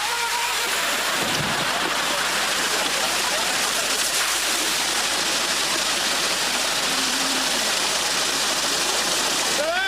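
Running water rushes continuously, a steady loud wash with no breaks, with faint voices heard beneath it.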